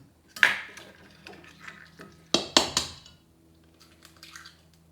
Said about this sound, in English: next we're gonna put in 3 large eggs, right here from on the farm